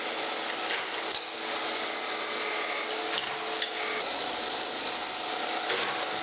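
A grinder works a cast iron blank for a segment gear on a Monarch 10EE lathe, giving a steady, continuous high-pitched hiss with slight surges over several seconds and no talking.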